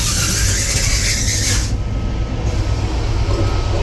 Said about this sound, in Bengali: এখন ট্রেন স্টেশনে এসে পৌঁছালো